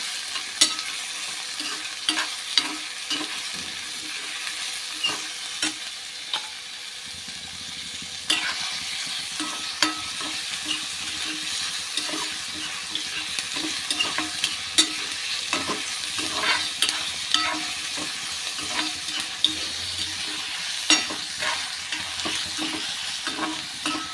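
Onion sautéing and being stirred in a pan for a spicy soybean curry, with a steady sizzle throughout and frequent scraping stir strokes; there is no talking.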